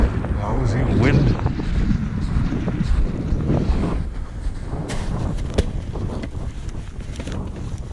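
Gusty wind buffets the microphone on an outdoor trail, a steady low roar with rushing surges throughout, and a person's voice is faintly present underneath.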